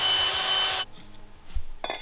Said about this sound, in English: we're gonna get this axle cut